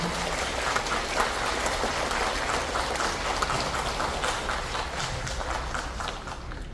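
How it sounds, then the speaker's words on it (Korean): An audience in a Yeongdeungpo district office hall gives a hearty welcome to a lecturer at a Korean patriotism-month special lecture: steady, dense applause fills the room without a break, with no talking over it. "모두 힘찬 박수로 맞이해 주시기 바랍니다"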